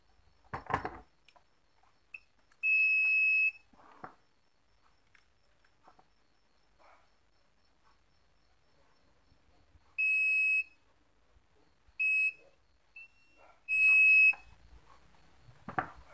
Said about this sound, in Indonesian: saya pastikan untuk penyambungannya normal ya, menggunakan buzzer